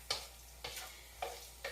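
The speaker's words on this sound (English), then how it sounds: "It's nicely sizzling." Red chili peppers, garlic and ginger sizzling in a pan for Kung Pao chicken, with four quiet, evenly spaced scraping strokes of stirring over a faint steady frying hiss.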